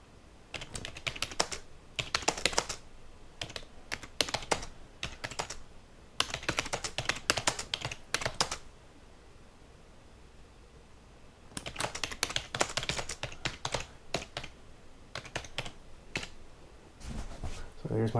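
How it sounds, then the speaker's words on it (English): Fingers type text on a computer keyboard in bursts of quick, close clicking keystrokes separated by quiet gaps, with no speech over the typing. "And I'll type my text in."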